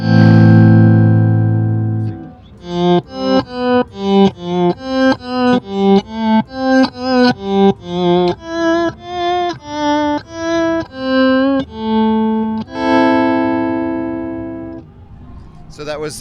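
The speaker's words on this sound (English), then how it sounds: "The official title is a tape reverse simulator." An Electro Harmonix tape reverse simulator pedal turns electric guitar notes backward, each one swelling up and cutting off in a steady run of about a dozen reversed plucks, bracketed by longer sustained swells.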